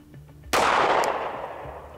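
A single sharp handgun shot fired at a target on a range, loud and close, its report decaying over more than a second with faint ambient noise before it.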